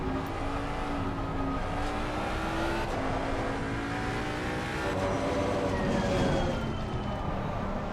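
Race car engines roar and rev continuously through a close on-track battle at Barcelona in Assetto Corsa Competizione, with a Mercedes running wide and rejoining, engine notes rising and shifting over steady loud tire and wind noise.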